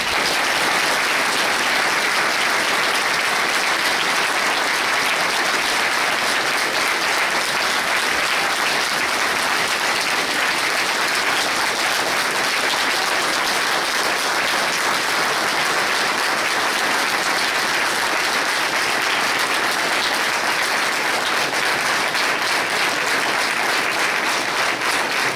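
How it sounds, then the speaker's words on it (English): Loud, sustained standing ovation from a large crowd at a police union awards night, a dense unbroken wash of clapping that holds steady throughout with no pauses. "standing ovation is well deserved"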